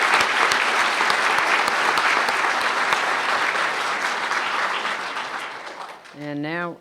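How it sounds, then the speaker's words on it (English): Sustained applause from a conference audience for award winners at a closing ceremony, broad, dense clapping that slowly fades, then a voice starts speaking at the very end. "I'd like to congratulate and give a round of applause one last time to all of our award winners"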